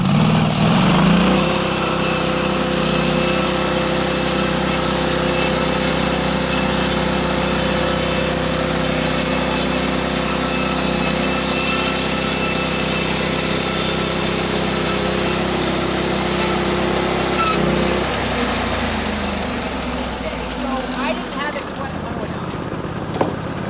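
Norwood HD36 sawmill cutting a spruce cant, a loud, steady engine drone and blade whine running nearly unbroken for about eighteen seconds before winding down and fading near the end.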